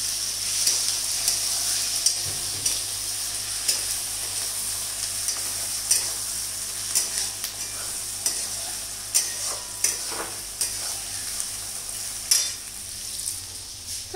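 Chicken cooking in a pan at home, stirred with a spoon: a continuous soft sizzle broken by regular scraping and clattering strokes against the pan, close and alone without talk.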